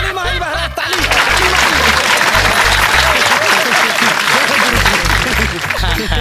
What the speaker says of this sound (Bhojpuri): ताली मारी महाराज, ताली